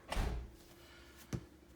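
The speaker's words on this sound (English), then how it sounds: "Sorry if you're hearing the door slam." A front door slams shut indoors, a dull heavy thud followed a moment later by a second, sharper knock, both fairly faint against a quiet room.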